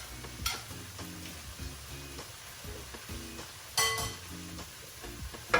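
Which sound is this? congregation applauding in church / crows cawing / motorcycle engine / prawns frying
prawns frying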